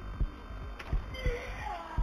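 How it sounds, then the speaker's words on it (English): A steady film heartbeat sound effect thumps in quick, evenly spaced low double beats over a faint hum, close and soft, with no talk. "Why is my heart beating?"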